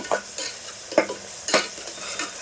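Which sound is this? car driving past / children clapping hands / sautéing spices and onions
sautéing spices and onions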